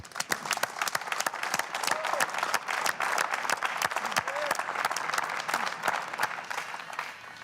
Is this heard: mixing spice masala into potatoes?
no